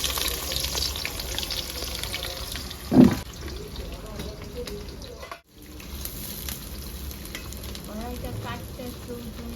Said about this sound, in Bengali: বন্ধুরা তেলটা গরম হয়ে গেছে, আমি পেঁয়াজটা ভেজে নেবো